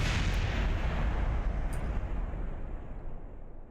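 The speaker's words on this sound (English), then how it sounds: "I kind of should have watched that explosion" A rocket explosion in Kerbal Space Program booms in a deep, heavy burst that rumbles on and slowly fades over several seconds, loud and with no talk over it.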